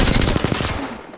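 Rapid automatic gunfire from a pub match of a first-person shooter video game, a quick burst of about a dozen close, loud shots that cuts off abruptly into a short fading tail.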